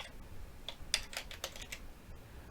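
Keys clatter on a computer keyboard in a quiet room, a short burst of several quick, close taps with brief gaps and no talking.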